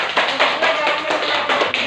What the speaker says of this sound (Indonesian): kita berikan aplaus buat kelompok 2